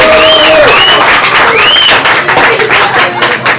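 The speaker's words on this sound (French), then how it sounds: "Même les femmes, elles ont applaudi." Loud, dense applause from a French audience answering a show-of-hands question by clapping, with scattered whoops and cheers rising over the steady clatter throughout.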